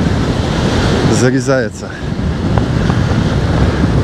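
Stormy sea surf and gusting wind off Anapa during kitesurfing, a steady loud roar of waves and wind buffeting the microphone, with someone speaking briefly over it.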